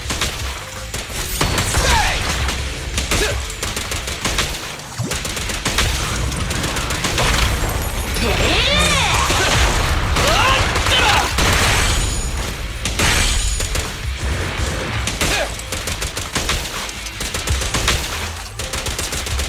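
Gunfire in the Zenless Zone Zero video game, a dense, loud, sustained stream of rapid shots and crashing impacts layered over game music and effects for the whole stretch.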